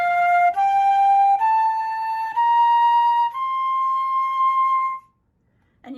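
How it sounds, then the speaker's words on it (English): Flute playing a rising series of sustained notes, each separated by a clean tongued attack, clear and close with no other sounds, then a brief soft noise at the end. "what tonguing does is the tongue interrupts the air."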